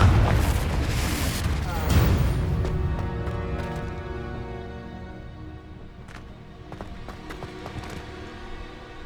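A Confringo spell explodes in the video game Hogwarts Legacy, a loud booming blast at the start that rumbles and fades, followed by scattered lighter impacts and ringing game effects.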